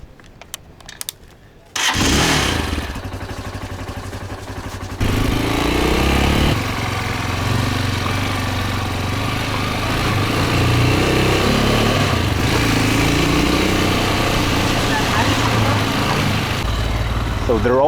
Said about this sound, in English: let's hop in a motorcycle and let's go check it out